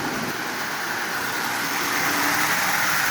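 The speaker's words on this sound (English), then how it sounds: "So that motor runs well. It's really, really smooth." A Marx single reduction toy train motor on a Canadian Pacific Shell set runs smoothly, giving a steady, even whirring hum throughout.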